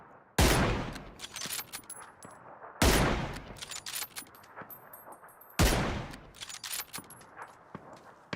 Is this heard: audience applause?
no